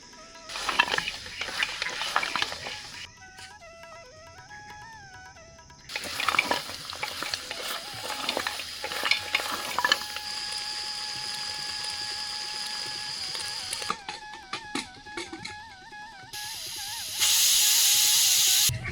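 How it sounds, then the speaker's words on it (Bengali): Onions frying in hot oil for goat paya nihari in a village kitchen, a loud bubbling hiss that starts and stops between louder bursts, with clinks and a faint high tone in the background. "তেলটা গরম হয়ে এলে আমি এর মধ্যে দিয়ে দেবো পেঁয়াজ। পেঁয়াজটাকে একটু বেশি করে ফ্রাই করবো আমরা,"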